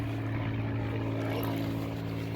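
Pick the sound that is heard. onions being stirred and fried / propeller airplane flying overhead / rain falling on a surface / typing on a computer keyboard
propeller airplane flying overhead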